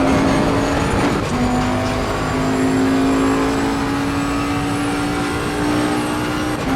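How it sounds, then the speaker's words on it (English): A race car engine in Assetto Corsa Competizione revs high and steady, its whine holding almost constant with small dips, loud and close throughout with no talking. "So you can really rev out these cars."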